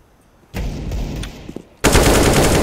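AK rifle gunfire in the video game CS:GO: a burst of automatic fire begins about half a second in, then a louder, denser stream of rapid shots starts near the end, close and sharp.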